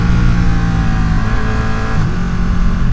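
A Ducati Panigale 959 motorcycle pulls hard in first gear, its loud, close engine roaring steadily with the pitch climbing and then easing back.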